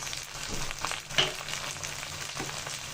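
Spice masala fries in a pan for a whole chicken roast, a steady close sizzle with a few soft stirring scrapes and one brief sharper crackle, and no talk.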